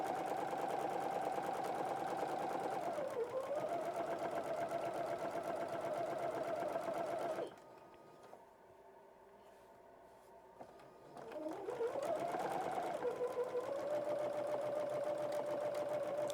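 A sewing machine runs in a steady, fast whir as it stitches T-shirt fabric strips together. It stops briefly partway through, then starts up again and keeps stitching at the same even pace.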